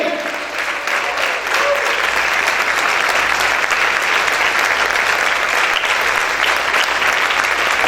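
Church congregation applauding loudly during worship, a broad sustained wash of clapping that swells after a brief voice at the start and continues strongly to the end.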